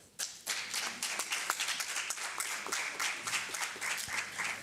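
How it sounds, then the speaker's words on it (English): Audience applause at a conference on girls' and women's education: dense, steady clapping from a crowd that starts abruptly and holds at an even level throughout, with no talk over it. "Je vous prie encore une fois de l'applaudir."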